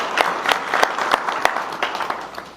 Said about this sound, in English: So please give a round of applause to yourselves as well.